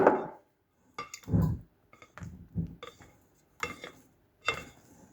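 Batter being mixed in a bowl after flour is sprinkled in, several separate clinking and scraping strokes with short pauses between them, close and clear.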